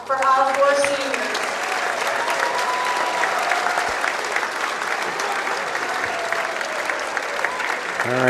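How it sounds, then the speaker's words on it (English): Crowd at a high school boys varsity basketball game applauding the senior players, sustained loud clapping and cheering filling the gym, with an announcer's voice over the start. "Could we please have one more big round of applause for our 4 seniors?"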